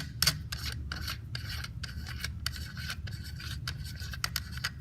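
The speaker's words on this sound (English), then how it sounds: "we're going to loosen up this nut" A nut is loosened on a .410 International Firearm Corporation ARU, making a quiet series of short, rhythmic rasping and scraping strokes with no talking.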